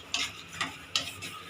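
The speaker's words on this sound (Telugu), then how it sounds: "గోంగూర యాడ్ చేసి ఇలా బాగా ఒక 2 మినిట్స్ మిక్స్ చేసుకోవాలి" Gongura leaves being stirred in a pan, with four separate scraping swishes spaced irregularly and a sharper clink at the end, close and fairly quiet against a soft sizzling background.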